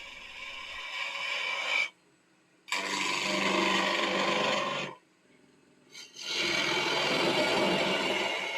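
A chisel cuts into a spinning wooden baluster on a lathe, giving a steady rasping scrape in three long passes separated by brief silences, close and fairly loud with no talk.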